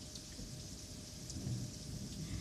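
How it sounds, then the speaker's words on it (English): Heavy rain pours down steadily in a thunderstorm, a dense continuous hiss with low rumbling thunder rolling underneath, loud and close throughout with no voices. "The rain's pouring down really heavy."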